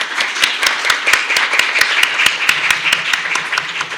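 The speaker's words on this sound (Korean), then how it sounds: "우리 두 팀장님에게 큰 박수" Seminar audience on international order claps for the panelists, close, sharp individual hand claps in a fast irregular rhythm over a softer spread of applause.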